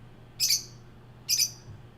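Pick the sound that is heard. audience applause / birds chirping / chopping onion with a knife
birds chirping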